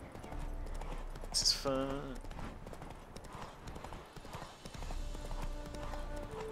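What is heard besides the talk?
horse Roach galloping hooves, from video game The Witcher 3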